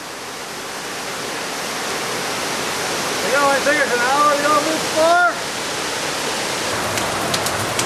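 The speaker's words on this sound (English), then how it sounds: "We're walking upstream at the base of the waterfall that stopped us." Waterfall at the base of Falling Water Falls, Tennessee: a steady, full rushing roar of falling water fills the whole stretch, with voices talking briefly over it midway.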